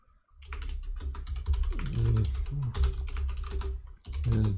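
Steady, close typing on a computer keyboard, a fast run of clicky keystrokes with brief pauses, heard alone without talk.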